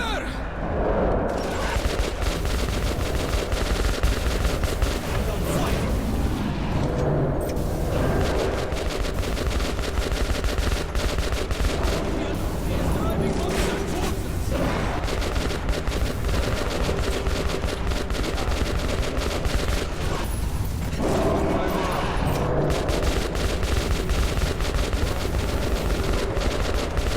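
Soldiers fire sustained automatic gunfire at nosalis creatures in a tunnel in Metro 2033 Redux, loud, dense and continuous, with rapid bursts and brief lulls throughout, mixed with voices and other game sounds.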